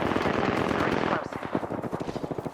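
Sustained automatic gunfire from an Apex Legends match, a dense loud burst for about a second that breaks into a rapid, evenly spaced stutter of individual shots.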